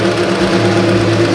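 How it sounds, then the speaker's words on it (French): A Toyota Supra A90 drift car fitted with a Judd V10 engine gives off a loud, steady engine drone with a strong low hum, close and sustained through the short moment. "ils ont pris une Supra, les dernières là, les A90. Bon bah ils ont mis un V10 Jude dedans."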